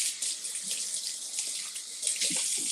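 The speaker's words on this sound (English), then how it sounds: "wash our hands when we touch raw eggs" Tap water runs steadily from a kitchen faucet into a sink while hands are washed during a live cooking demonstration, a continuous close hiss with faint splashes and clinks underneath.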